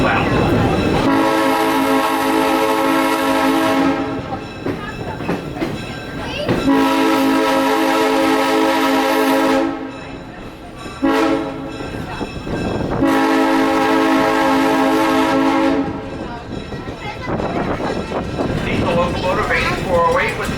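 Locomotive 8408's horn blows in three long, loud blasts, with rumbling train noise filling the gaps between them.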